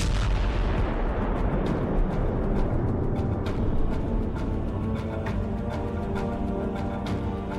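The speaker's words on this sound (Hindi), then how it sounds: "अमेरिका के इस ड्रोन स्ट्राइक से ट्रकों में बहुत जोरदार धमाके हुए" Trucks loaded with weapons blow up after a drone strike, a dense rumbling roar of continuous blasts with repeated sharp cracks and pops throughout, loud and unbroken.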